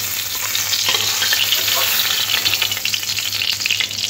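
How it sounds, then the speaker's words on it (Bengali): Pieces of katla fish fry in hot oil with a loud, dense, continuous sizzle and crackle, close and unbroken throughout, with no talking. "যে বাকি যে মাছটা আছে সেটাও এইভাবে ভেজে নেব।"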